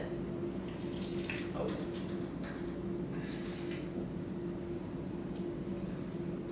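Redd's Wicked Mango hard ale pours into a glass in a steady, continuous liquid stream that stays fairly quiet and unbroken for several seconds.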